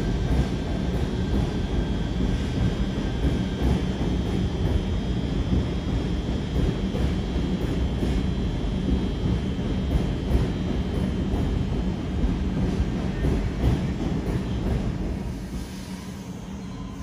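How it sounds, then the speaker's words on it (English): A Waratah passenger train pulls out of Hornsby station, a broad steady rumble of motors and wheels with a faint high whine, holding level before easing away near the end. "Warata departing Hornsby."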